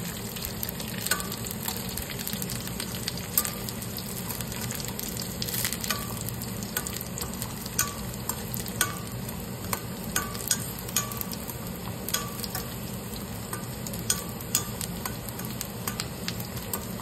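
Garlic and tamarind sizzle steadily in a hot pan for a beetroot chutney, with a spoon scraping and tapping against the metal in frequent light clicks over the continuous frying hiss.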